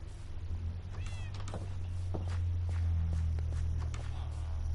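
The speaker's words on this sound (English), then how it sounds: "I feel like it's deathly quiet minus this cat." Cat meowing in Minecraft, several short mewing cries scattered over a steady low background drone, with faint footstep-like thuds in between.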